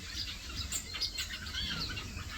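Gouldian finches in an aviary twitter with soft, busy chirps and tweets, several birds calling at once in a continuous high chatter, fairly faint, with no talking.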